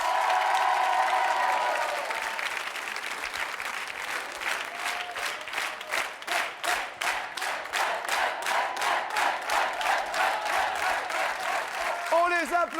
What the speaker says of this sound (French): On les applaudit fort